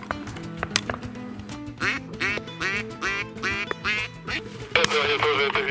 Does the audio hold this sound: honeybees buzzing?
no